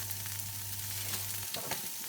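Mixed peppers for a stir fry sizzle in a hot saucepan sprayed with low-calorie cooking spray, a steady close frying hiss with faint stirring and no talk.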